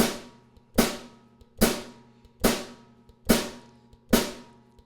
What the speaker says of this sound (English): We're going to play it on the snare drum.